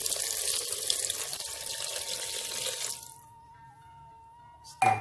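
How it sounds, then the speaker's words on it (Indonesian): A glass of water is poured into a cooking pan in a steady loud rush that lasts about three seconds and then stops, leaving a faint hum and a brief clatter at the end. "Kita masukkan airnya, segelas aja."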